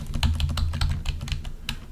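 Rapid clicking of keys on a computer keyboard, an irregular close-up patter of taps lasting a couple of seconds with a steady low hum beneath.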